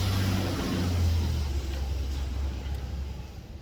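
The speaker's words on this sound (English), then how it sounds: "Here comes Coca-Cola truck again." A Coca-Cola delivery truck rolls past at a theme park, its low engine rumble swelling nearby and then slowly fading as it moves away.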